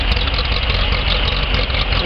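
A 1953 Farmall Super C tractor engine idles steadily and loudly close by, a low chugging rumble with a slightly lumpy cam-like beat and no talk.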